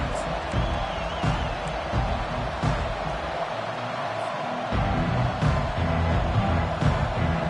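Football stadium crowd roaring and cheering at a kickoff return, a dense, steady wall of noise with scattered whoops and shouts, loud and sustained with no clear break.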